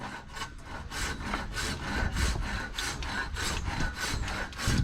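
Wood being cut with a hand saw outdoors, heard as steady, rhythmic back-and-forth rasping strokes, close and fairly loud, with no talking.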